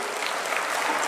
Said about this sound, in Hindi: जोरदार ताली बजाओ कर लिए।